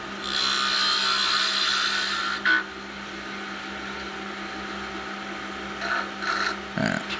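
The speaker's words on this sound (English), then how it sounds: "dig it in and do that nice cleanup cut. So doing a plunge cut." A wood lathe tool makes a plunge cut into a spinning wooden whistle blank, giving a sustained abrasive scraping hiss over a steady motor hum, with a brief pause and short scrapes near the end.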